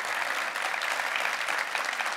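A crowd at a city hall citizen town-hall event in Incheon applauds in a brief, even burst of dense clapping, heard alone.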